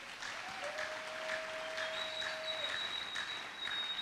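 A church congregation claps in praise, a soft, continuous patter of many hands heard at a distance, with faint tonal sounds drifting over it.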